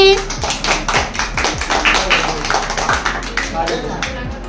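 A small group claps at a birthday gathering, a quick burst of brisk, close hand claps with voices talking and cheering over it.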